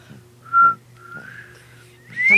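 Someone whistles a few short, shaky, breathy notes, with a brief pause between tones and a brighter final note, close by in a quiet room with no talking.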